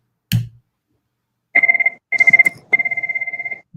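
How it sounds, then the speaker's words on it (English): A work phone ringing in three loud electronic trilling bursts after a brief knock, each burst a rapid warbling tone, close and clear with no talk. "That was my work phone."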